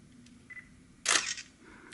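Shutter of a Nikon D7100 fired through a Neewer SmartGrip battery grip, one crisp mechanical click-clack at close range over a quiet background.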